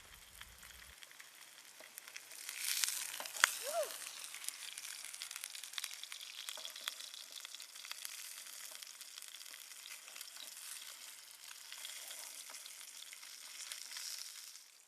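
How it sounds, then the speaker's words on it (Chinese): Mackerel slice pan-frying in a little oil over a camp stove in a misty mountain forest, a soft, steady sizzle throughout with a brief louder crackle near the start. "接着煎第2片，"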